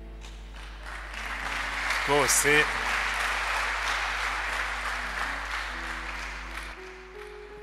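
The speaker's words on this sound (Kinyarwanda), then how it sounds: "Reka mbanze nkomera amashyi abantu batarengeje imyaka 40" A church congregation applauds steadily and fairly loudly through the whole stretch, with a preacher's voice speaking over the clapping.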